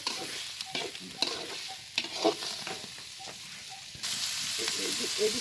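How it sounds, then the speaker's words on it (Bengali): Onions frying in a pan with a steady crackling sizzle, punctuated by scraping stirs; the sizzle grows louder and denser toward the end. "পেঁয়াজটা ভাজা হবে লাল লাল করে পেঁয়াজটা ভেজে নিতে হবে"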